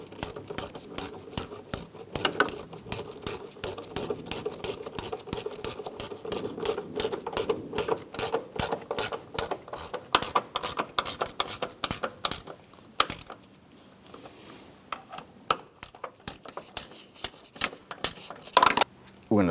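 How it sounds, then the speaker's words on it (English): Rapid ratcheting as bolts are snugged down on the door hinge of a 1993-1997 Ford Ranger, a fast steady stream of metallic clicks that runs on for many seconds up close, with short pauses between bursts. "Let's go ahead and snug down our bolts."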